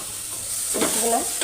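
Chopped tomato hitting a hot tempering in a pan for a greens curry, giving a soft rising sizzle and a brief stir, close but fairly quiet against a steady background hiss, with no talk.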